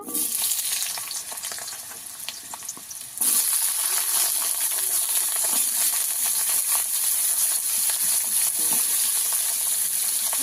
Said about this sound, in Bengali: দিয়ে দেবো তেল। প্রথমে আলুটা ভেজে নেব।